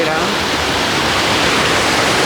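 A small waterfall spilling from an overflowing pond in Thurkapally gives a dense, even roar of rushing water, close and loud, running without a break.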